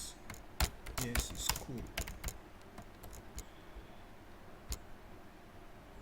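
Quick bursts of typing on a computer keyboard, with sharp close clicks in an irregular run that thins to a few scattered taps. A voice speaks briefly over the keystrokes.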